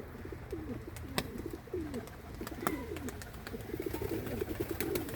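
Tumbler pigeons coo in soft, repeated low calls close by, with light clicks and flutters of activity around them and no voices.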